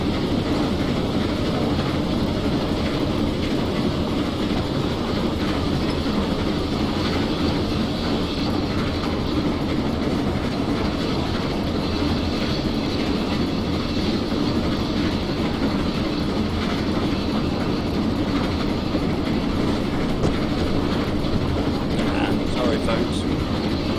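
A GWR Castle steam locomotive runs on the West Highland Line South in Train Simulator 2016, giving a constant loud rumble and rattling mechanical clatter that stays steady throughout.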